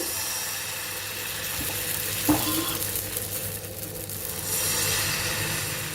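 Rice flour batter sizzling steadily on an oiled hot pan, a constant close crackle with a brief clink of a utensil partway through.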